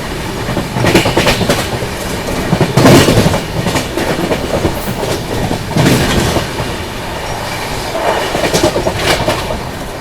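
Dibrugarh Rajdhani Express running through Dhupguri station without stopping, heard from aboard as a steady loud rumble with rhythmic clickety-clack of wheels over rail joints throughout.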